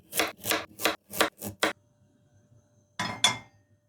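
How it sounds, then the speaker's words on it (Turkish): Carrots chopped on a board in the kitchen, six firm knife strikes in quick succession, then a pause and two more cuts, close and clear with no talk. "Havuçların kabuklarını soyup doğrayalım."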